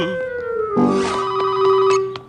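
A cartoon telephone rings in a warbling electronic trill of several quick pulses over steady background tones, with no talking.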